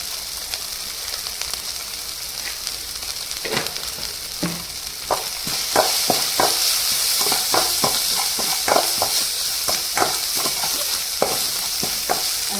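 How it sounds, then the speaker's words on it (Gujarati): Boiled potatoes are stirred in a pan with turmeric and salt, sizzling steadily. A spoon scrapes and clicks against the pan in irregular strokes. The sound is close and there is no talking. "તો હવે બટેટા એડ કરી અને આપણે તેને હલાવી લીધો છે"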